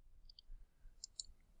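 A computer mouse clicks several times at a desk, tiny sharp ticks heard in quick pairs, very faint and close, in an otherwise quiet room with no talking.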